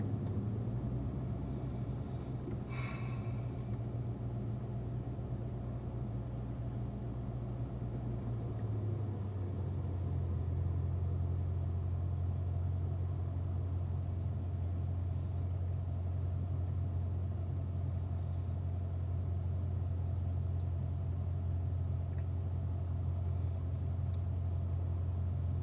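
Corvette engines at the Ron Fellows Corvette driving school rumble steadily as the cars pull up. The low, continuous idle holds throughout, its pitch dropping and settling partway through, with no voices heard.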